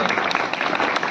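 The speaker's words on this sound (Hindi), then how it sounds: "एक बार जोरदार तालियों के साथ इनका स्वागत किया जाए।" Loud, dense clapping from an audience welcoming a cabinet minister at a Guru Ravidas Jayanti celebration in Narwana, steady and close throughout the short burst.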